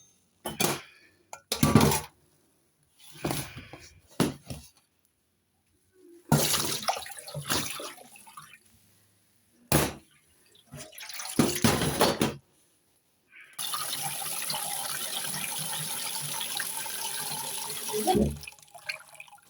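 Water draining from a pot of green-dyed wool, heard first as bursts of pot clanks and splashing, then as a steady rushing pour that lasts several seconds before it stops.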